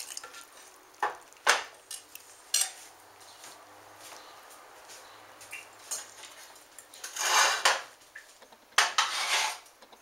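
Noodles are stirred through a gooey cheese sauce in a pot for gluten-free mac and cheese, with a spoon scraping and clinking against the metal in scattered bursts alongside soft wet squelching, close up and without voices.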